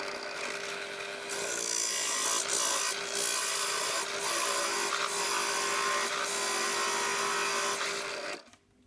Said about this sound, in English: I now need to drill the hole 11 millimeters deep so I can put in the hinge.